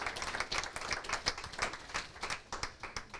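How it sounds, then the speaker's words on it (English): Small audience clapping for a guest speaker at a crypto talk in a Taipei venue, a fairly quiet, uneven patter of hands lasting a few seconds with no voices over it. "Big round of applause for Jack."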